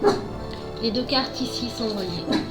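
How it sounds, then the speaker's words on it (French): A dog yips, whimpers and barks in agitated bursts in a room, moderately close, overlapping with someone speaking. "ça c'est mon chien qui s'affole"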